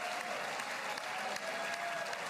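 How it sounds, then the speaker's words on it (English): A large audience claps continuously in dense, loud applause with no break, making an even wash of many hands throughout. "Just a shitload of clapping."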